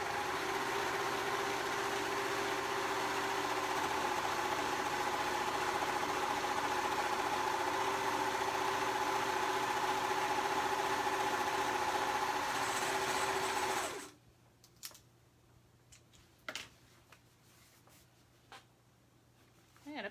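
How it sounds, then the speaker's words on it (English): A serger overlocker sews a seam in one long, loud, steady whir for about fourteen seconds, then stops abruptly, leaving faint handling taps and clicks. "So I'm just going to run the serger."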